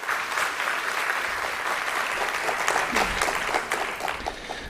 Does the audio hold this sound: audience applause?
yes